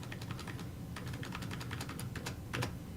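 Rapid, irregular clatter of keys on a computer keyboard, close and steady for a few seconds with no talk.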